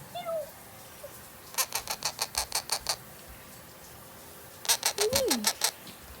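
Pet parrot, a Blue Ringneck or Quaker, gives a rapid run of sharp, evenly spaced chirps, then a second burst a few seconds later with a rising-falling whistle, fairly close in a quiet room.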